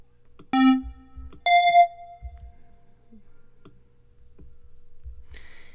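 Two short, bright buzzy square-wave synth notes in Logic Pro X ring out and fade quickly, followed by mostly quiet space with a few faint soft thumps.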